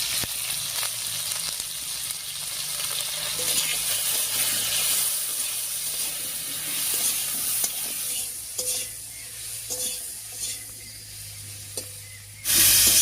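Sliced pointed gourd (potol) frying lightly in oil with salt and turmeric, a steady close sizzle with stirring clatter, ending in a louder burst of hiss.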